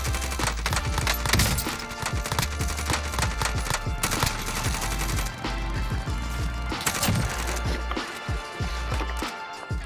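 Rapid bursts from a QBZ assault rifle in a first-person shooter game, dense and loud across the whole stretch with brief pauses between strings of shots, under occasional speech.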